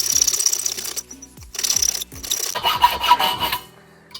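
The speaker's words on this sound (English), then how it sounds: "I'm just gonna cut this to length here with the hacksaw" Rasping hacksaw strokes bite into a metal pipe in uneven bursts, near and loud, with short pauses between passes and a faster run of strokes near the end.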